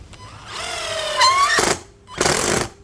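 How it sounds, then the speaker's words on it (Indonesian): A cordless brushless impact driver set to speed 2 drives a 2-inch screw into mahogany, giving a loud, steady whirring run with rapid hammering bursts, then a brief pause and a second short burst. "kita menggunakan skrup dengan panjang 2 inci. Untuk medianya adalah kayu mahoni."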